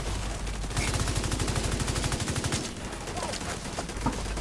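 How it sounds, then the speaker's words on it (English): Sniper turret gunfire in the video game The Division 2, rapid loud bursts of shots with a rhythmic rattle, and a person talking over the fire. "Oh, yeah, it's a sniper turret."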